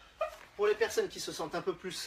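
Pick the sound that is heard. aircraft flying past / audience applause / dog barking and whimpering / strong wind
dog barking and whimpering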